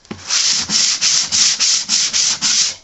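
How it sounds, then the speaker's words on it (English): Steady back-and-forth sanding on wood with a fine sanding block along the grain, about nine even rasping strokes in a regular rhythm, close and fairly loud, with no talking. "I just have a fine sanding block, and I'm sanding with the grain"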